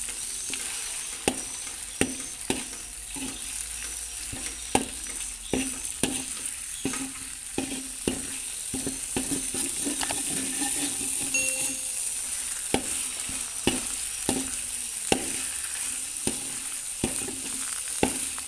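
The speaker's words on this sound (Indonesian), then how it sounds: "kita tumis ya" Ground spice paste of turmeric and onion stir-fried in a pan for a young-coconut vegetable dish, a steady low sizzle broken by regular spatula scrapes and taps, close and without talk.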